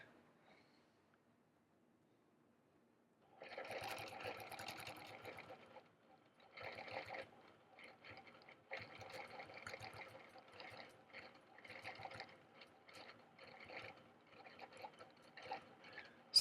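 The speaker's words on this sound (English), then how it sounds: "So now I'm going to quilt, or ditch, I should say," Sewing machine running a stitch-in-the-ditch quilting line on an Alaska quilt, a steady mechanical whir in several bursts separated by brief pauses, moderately loud and close, with no voices.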